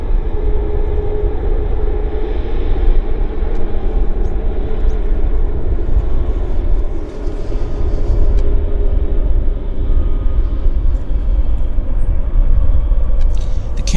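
A Philippine Airlines airliner at Vancouver Airport gives off a constant, loud engine rumble and hum at a distance, steady with a brief dip midway, with no one talking.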